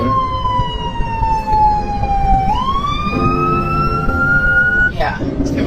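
A fire engine's wailing siren sweeps down and then back up as it passes right beside a car during the Lahaina fire on Maui, loud and close, with road noise and occupants talking underneath.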